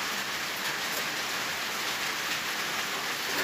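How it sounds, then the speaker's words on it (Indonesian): Rain falls steadily in an outdoor setting, a dense even hiss of drops on surfaces with no break, fairly close and with no voices. "Nah, hujannya."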